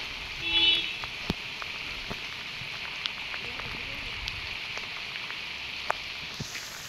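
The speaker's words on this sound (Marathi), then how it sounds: "आज पाऊस कालपासून कंटिन्यू चालू आहे पाऊस" Steady rain hisses softly, with scattered sharp drips and ticks landing nearby throughout.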